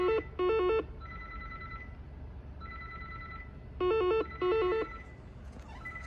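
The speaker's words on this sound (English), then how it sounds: "I'm not picking up the phone today, because the fact that they keep calling is abnormal" A telephone at a hotel front desk rings in repeated double bursts, separated by pauses with a fainter tone, moderately loud against a low room hum.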